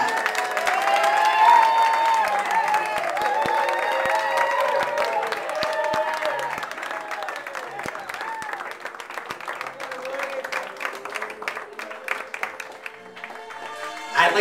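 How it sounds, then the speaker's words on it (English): Wedding guests at the Yankee Clipper Inn in Boston applaud steadily as the father of the groom is introduced, a dense, sustained wash of clapping with some cheering mixed in, fading slightly toward the end. "round of applause for the father of the groom, Wayne Caldwell, escorted by his sister"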